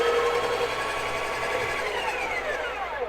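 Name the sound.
Breville Barista Pro coffee grinder grinding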